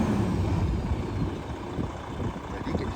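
A Detroit diesel engine in a 2012 Freightliner M2 112 tandem-axle material handler truck runs at a low, steady rumble, moderately close with a rough, throaty texture and no talk over it.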